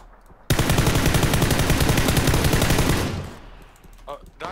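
Automatic gunfire in the battle royale video game PUBG rattles off in a rapid, loud, continuous burst lasting a few seconds before fading, with a player's voice faintly present underneath.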